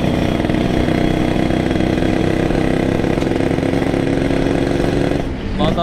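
A borrowed motorcycle engine runs with an uneven, sputtering buzz on a polluted city road, loud and continuous under a man's speech, easing off slightly near the end.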